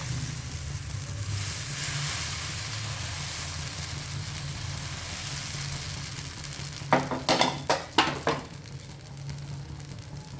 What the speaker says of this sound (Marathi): डोसा परतून घेणार आहे. आता परत एक घालते.